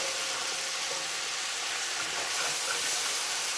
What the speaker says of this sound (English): In goes our vegetables.